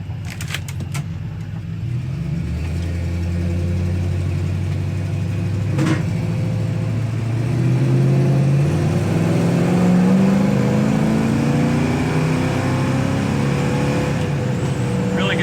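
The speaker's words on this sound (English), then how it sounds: "Power, nice smooth shift there in the second gear." A 1967 Chevrolet Impala SS 396 V8 accelerates through the gears, its loud, close engine note climbing in pitch, dropping at a shift into second, then rising again as it pulls harder, with no talking.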